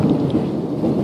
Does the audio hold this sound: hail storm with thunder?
yes